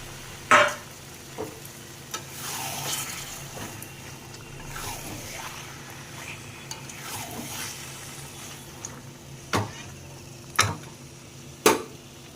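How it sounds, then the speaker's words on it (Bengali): Washed chicken goes into hot spiced oil in a pan for a chicken curry, giving a soft sizzle with scraping stirs and several sharp utensil knocks against the pan. "ধুয়ে রাখা চিকেনটা দিয়ে দেব।"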